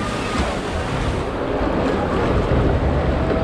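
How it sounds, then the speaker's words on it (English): Log flume boat at Liseberg amusement park rushing through water, a steady loud wash of splashing and surf-like roar with wind buffeting the microphone throughout. "Here we go on the Liseberg log flume."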